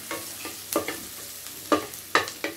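Chili garlic frying in a pan for crispy isaw dinuguan, with a faint oily sizzle under occasional sharp scrapes and clinks of a utensil stirring, close by and without talk.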